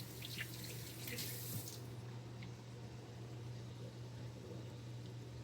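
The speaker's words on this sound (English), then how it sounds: "so I gotta wash the hands. Scrub them real good." Running tap water splashes over hands being washed at a kitchen sink, a steady close rush with a brighter splashing start that settles into an even flow over a low appliance hum.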